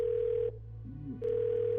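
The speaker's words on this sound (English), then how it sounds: "We're gonna make a phone call on the phone." A phone call rings out in the game Twelve Minutes: two steady electronic tone bursts separated by a short gap, clear and close, with a low hum underneath.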